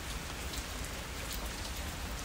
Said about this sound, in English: look at the weather. It's raining.